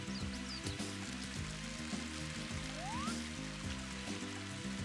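Rain hisses over a golf course in Mario Golf on the N64, a steady sizzling wash under tonal game music with a brief rising sound effect partway through.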